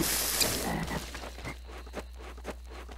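A chumtoad creature in Garry's Mod croaks a few times, soft, low, rhythmic croaks following a brief burst of noise at the start.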